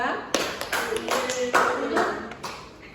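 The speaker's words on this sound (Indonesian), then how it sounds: "beri tepuk tangan untuk kelompok 2" Sparse, uneven handclaps from a small classroom group applauding students, a few sharp claps scattered among light tapping and murmured voices, fairly close and modest in volume.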